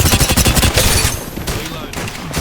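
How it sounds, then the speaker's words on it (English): Rapid automatic gunfire in Apex Legends rattles loud and close for about a second, followed by lighter shots and game effects. "Being shot at."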